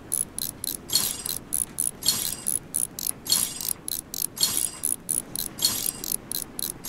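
Screws being removed in the Train Simulator Mechanic 2017 video game, heard as a fast series of repeated ratcheting mechanical clicks in an even rhythm, close and clear with no voices.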